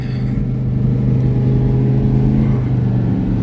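Pickup truck towing a trailer loaded with a Deere 510B backhoe accelerates up onto an interstate, a steady loud low engine drone and road rumble continuing throughout with no talk.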